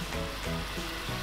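Sauce with grated garlic bubbling and reducing in a pan around potato steaks, a close, steady sizzle with soft crackling that holds for the whole moment.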